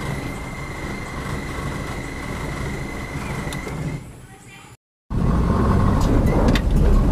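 A Toyota Kijang Super 5K engine, its contact-point ignition upgraded to CDI, hums steadily and smoothly up close, a low even drone that cuts out briefly before resuming slightly louder.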